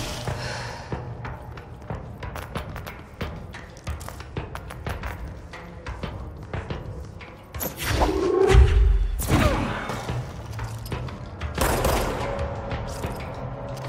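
Rapid gunfire in the video game Control crackles in dense bursts of sharp shots, broken by heavy booming thuds of rocket blasts, loud and close throughout.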